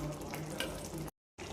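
Prepared masala added to malai kofta gravy in a pan, frying and stirring with a steady close sizzle and scraping, briefly cutting out before resuming.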